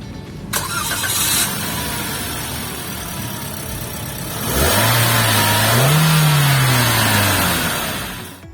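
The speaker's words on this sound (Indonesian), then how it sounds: "kita pengen coba start up dulu mobilnya" A Daihatsu Xenia with a 1300cc engine and manual gearbox cranks over and catches, then settles into a steady, close idle after a brief flare in revs.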